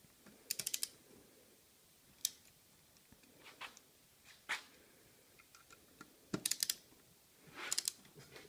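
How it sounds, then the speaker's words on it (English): Torque wrench on connecting rod bolts at 30 foot-pounds in an engine build, giving sharp, faint metallic clicks in small clusters with quiet pauses between them, no talk. "just torquing them till they click"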